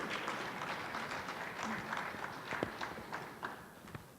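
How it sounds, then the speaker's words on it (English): Audience applause at the WCCE 2018 inaugural conference ceremony, heard as faint, distant, steady clapping with scattered sharper claps throughout. "Huge round of applause."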